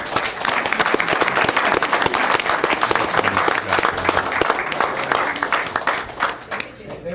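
Sustained audience applause fills a township council reorganization meeting room, dense and steady clapping at close range that tapers slightly near the end, with a hint of voices underneath.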